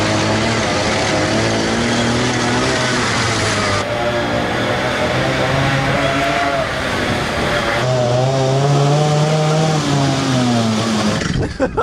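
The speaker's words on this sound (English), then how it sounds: "It is Euro chainsaw." A small two-stroke chainsaw engine powering a homemade rail draisine drones loudly and steadily, its pitch rising and falling with throttle changes, with rhythmic clattering underneath throughout.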